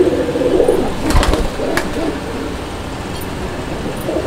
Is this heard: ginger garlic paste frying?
no